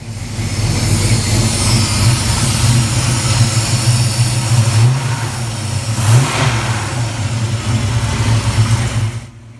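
A 1967-72 Chevy truck engine fitted with a fuel-injected carburetor runs steadily up close, a loud continuous drone with a brief rev swell around the middle before it cuts off at the end.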